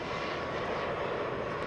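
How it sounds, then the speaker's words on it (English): An airplane lands on a runway, heard as a steady, broad engine roar that holds at an even level throughout, with no talk over it. "looks like we're going to wait for this plane to land"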